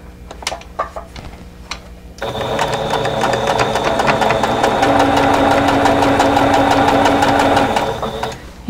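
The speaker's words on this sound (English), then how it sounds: "I'm going to start with the first two pieces of the first row and sew them together" Domestic sewing machine stitching quilt block pieces together, starting after a few clicks and handling noises, then running in a fast steady mechanical whir with rapid needle ticks for several seconds before stopping.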